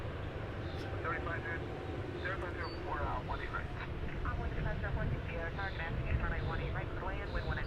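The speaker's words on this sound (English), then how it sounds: "our next Dreamliner has taken the runway, so another heavy alert" A Boeing 787 Dreamliner on a heavy departure rolls down the runway at Dallas Fort Worth airport, bound for Kahului, Hawaii. Its steady broadband engine roar holds throughout while people talk over it.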